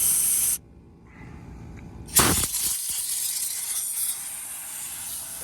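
A small Craftsman air compressor blasts air to blow dust out of a radiator, a loud hiss that cuts off abruptly, then returns with a sharp burst and continues as a steady rushing spray.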